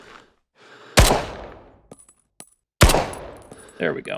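Two loud, sharp single shots from a .45-calibre weapon in Rising Storm Vietnam, each with a long decaying tail, about two seconds apart, followed by short mechanical clicks and a brief spoken remark.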